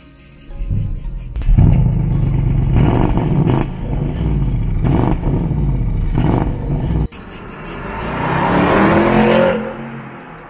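A Porsche Panamera Turbo S E-Hybrid Sport Turismo drives off and accelerates hard, its engine climbing through loud rising revs with gear changes, then a brief cut before another strong surge of acceleration that swells and fades.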